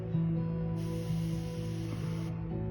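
An airbrush spraying thinned Citadel air paint gives a close, steady high hiss that starts partway through, holds for about a second and a half and then cuts off, over a low mechanical hum, with no speech.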